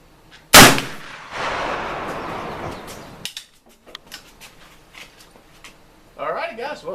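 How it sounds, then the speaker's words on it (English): An 1879 Argentine contract Remington rolling block rifle in 43 Spanish caliber fires a single loud, sharp shot, followed by a few seconds of rumbling noise, then scattered clinks and handling sounds, with a voice speaking near the end. "I got one more round here to fire."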